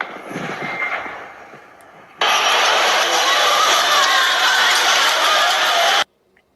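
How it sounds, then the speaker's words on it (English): A sound weapon fired down the center of a street at a crowd: a sudden, loud, sustained broadband blast that starts abruptly after a quieter stretch of murmuring crowd noise, holds steady for several seconds, then cuts off sharply. "So this is the crowd with using the sound weapon that you're talking about"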